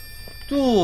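A phone rings in the Outlast 2 horror video game, a single bright ringing tone starting abruptly halfway through after near silence.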